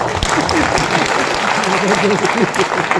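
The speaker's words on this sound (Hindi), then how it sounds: "ताली बजाइए इस बात।" Audience clapping at a Hindi poetry gathering (kavi sammelan) in Daltonganj, a steady patter of applause throughout with voices audible underneath.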